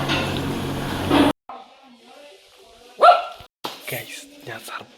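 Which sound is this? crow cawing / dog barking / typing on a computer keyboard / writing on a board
dog barking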